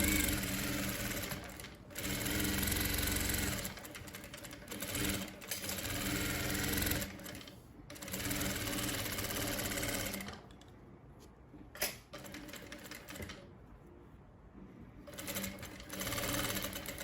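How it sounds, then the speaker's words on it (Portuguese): Close up, a sewing machine runs a straight seam on a cotton dish towel. It hums and rattles in several bursts, with short stops between them and quieter gaps near the end. No one speaks. "uma costura reta, dando retrocesso no início e no final."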